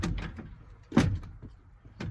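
Plastic clicks and thuds come from a door panel being pried and handled on a 1991 Chevy K1500 pickup, a few distinct knocks and rattles close by with brief quiet gaps between them.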